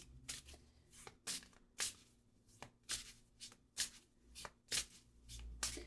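Tarot cards are shuffled by hand in quick, rhythmic riffling bursts separated by short pauses, crisp and close in a quiet room with no talking.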